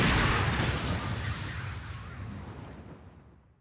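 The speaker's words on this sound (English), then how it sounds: "Crazy gunshot sound." A booming gunshot in the video game Ghost Trick: Phantom Detective sounds like a cannon, starting with a heavy blast that decays slowly into a long rumbling tail, with no talk over it.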